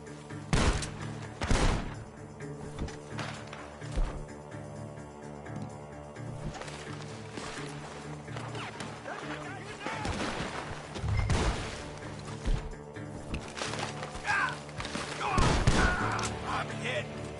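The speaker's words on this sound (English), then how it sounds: "The gunshots are coming from that barn" Rapid bursts of gunfire crackle from a barn during a shootout in Red Dead Redemption 2, sharp repeated shots mixed with game noise and voices, some volleys loud and close.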